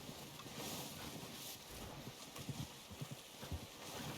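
Horse hooves in the Red Dead Redemption video game: faint, soft clip-clopping hoofbeats under a windy outdoor ambience, growing clearer toward the end.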